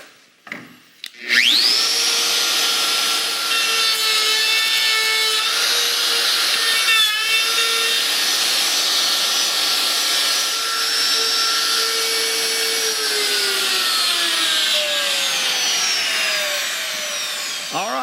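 A loud, sustained whine of a power router cutting through wood, starting abruptly and running steadily with slight pitch changes before winding down.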